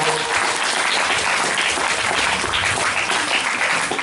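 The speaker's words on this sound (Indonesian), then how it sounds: "tepuk tangan untuk" A seated audience applauds at a religious sermon gathering, a dense, steady wash of clapping that holds at full volume throughout with no talk over it.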